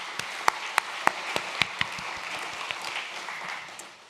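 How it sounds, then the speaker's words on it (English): A modest audience at a public science talk on artificial intelligence applauds: a few loud, distinct nearby claps stand out over a softer wash of scattered clapping that thins out by the end. "So can we join in a round of applause for The Edge?"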